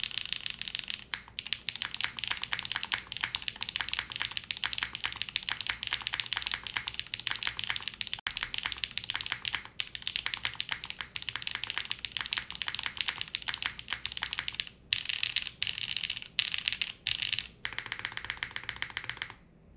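Rapid, continuous clicky typing on a Cloudline TKL mechanical keyboard, dense bright key clacks in fast bursts with brief pauses near the end, close up and with no talk.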